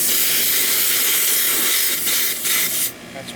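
Refrigerant hisses steadily from a leak on a Goodman AC unit, a loud, close, breathy stream that fades near the end.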